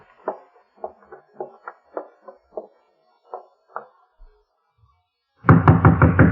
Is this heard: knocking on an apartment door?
yes